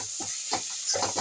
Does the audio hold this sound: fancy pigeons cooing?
no